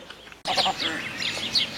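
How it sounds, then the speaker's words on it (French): Nine goslings peep and chirp in quick, overlapping calls close by, with a soft honk or two from their mother, a frizzled goose. "voici ma femelle oie frisée avec ses 9 petits"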